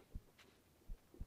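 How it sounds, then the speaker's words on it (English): A human heartbeat heard up close while cuddling, soft low thumps in a slow lub-dub rhythm, three beats, faint and intimate with no talking. "You can feel my heartbeat?"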